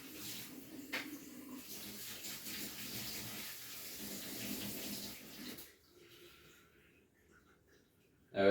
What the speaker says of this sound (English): Get some hot water out the tap.